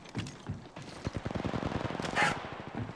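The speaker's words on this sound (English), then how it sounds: "The enemies are shooting at me." Rapid bursts of automatic gunfire in the mobile battle royale game Apex Legends Mobile, a quick rattling run of shots with mechanical clatter, fairly quiet and steady across the moment.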